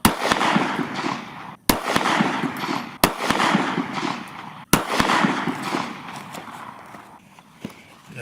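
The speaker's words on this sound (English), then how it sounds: "We're going to try to shoot through about here and see if we impact the gel block." Gunshots are fired through a Carhartt jacket into a ballistic gel block outdoors: four sharp, loud cracks spaced a second or so apart, each trailing into a long echoing rumble.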